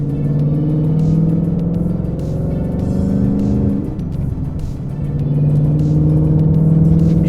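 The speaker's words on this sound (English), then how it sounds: "Track exhaust sounds good." A modified 2018 Ford Mustang GT with a track exhaust drones from inside the car, a steady low rumble that swells, dips briefly, then rises again as the engine pulls.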